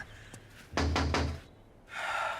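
A quick tap followed by three heavy, evenly spaced knocks on a door in a Breaking Bad scene, loud and close, then a burst of broadband noise.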